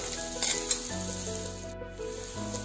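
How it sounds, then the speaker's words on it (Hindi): Corn kernels roasting in a pan over a high gas flame give off a steady close sizzle, with a few scraping rubs and clinks early on and no talking. "अब हाई करने के बाद थोड़ी देर इसको भूनना है थोड़ा सा इस तरीके से, ठीक है।"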